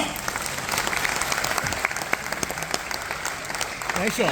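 Loud, dense applause from an audience fills the whole stretch, steady with scattered sharper claps and faint voices mixed beneath.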